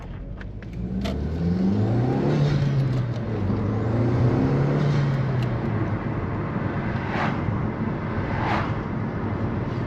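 A Toyota Corolla GTI E100 engine running without an air filter revs steadily and loudly up close, with a whirring intake note, a faint whistle and brief hissing releases from a blow-off valve as the throttle lifts.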